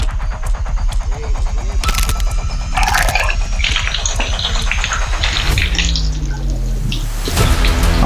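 Water rushes and splashes loudly and steadily at a hillside temple near Vandavasi, with a low throbbing hum underneath the continuous close flow.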